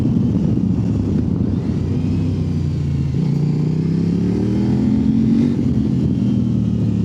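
Kove 800X Pro motorcycle engine running loud and close during a test ride, a steady mid-pitched drone that rises and falls slightly with throttle at low revs in a low gear.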